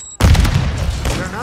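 A grenade detonates in the shooter Call of Duty Modern Warfare II, a sudden loud blast after a brief quiet moment, followed by a rumbling, crackling tail that fades slowly.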